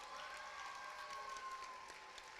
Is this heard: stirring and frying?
no